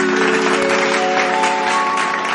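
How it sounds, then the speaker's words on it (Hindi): Audience applause for a folk singer at an Odia devotional stage event, a loud continuous wash of clapping with a sustained musical tone running beneath it. "लब्ध प्रतिष्ठित कंठशिल्पी विष्णुमोहन कवि गोटे जोरदार करताली"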